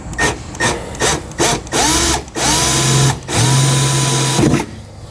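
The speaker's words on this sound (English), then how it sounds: "I'm going to be as best as I can here not to shove the drill bit all the way through" A power drill drives a bit into the bed of a 2020 Chevrolet Silverado for a Curt custom fifth wheel kit, whirring in short bursts up close with pauses between, then a longer steady high-pitched spin.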